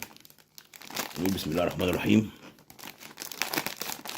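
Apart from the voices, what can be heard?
plastic snack bag being torn open and crinkled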